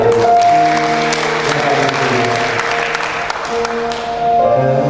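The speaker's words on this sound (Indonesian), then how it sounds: "Berikan tepuk tangan." A Christmas concert audience applauds loudly over sustained music, the clapping spread evenly through the whole stretch with tones held beneath it.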